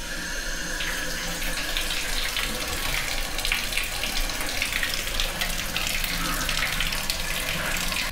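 Tap water runs steadily into a sink as hands are washed in the restroom of a Gordon Ramsay restaurant, where the faulty plumbing sends water out in the wrong place; the close, continuous splashing fills the whole stretch with no talk.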